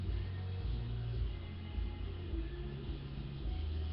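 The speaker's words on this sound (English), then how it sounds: "you guys can hear the radio in the background" Faint music from a radio murmurs steadily in the background, muffled and distant, with no one talking over it.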